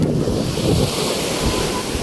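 Sea waves wash onto a beach near a campsite in a continuous loud roar of surf, mixed with heavy wind buffeting the microphone.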